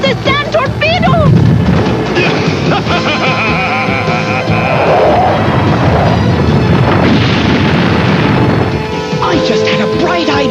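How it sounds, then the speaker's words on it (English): A cartoon sand torpedo fires and explodes with a loud, sustained booming rumble, shouting voices and commotion over it throughout. "Fire one! Look out! It's a sand torpedo!"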